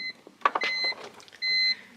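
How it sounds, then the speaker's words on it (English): A BMW car's warning chime beeps in short tones, two separated bursts with some rustling and cleaning noises between them, close and moderately loud inside the car. "That beeping noise."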